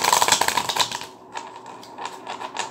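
Tarot cards being shuffled by hand, a quick run of crisp riffling clicks and flutters, then a short pause and several softer, scattered card slaps and shuffles up close.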